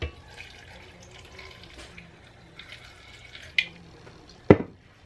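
Water pours from a tap or jug into a blender jar holding onion, garlic and tomato for a sauce, a soft running trickle with a couple of sharp knocks near the end.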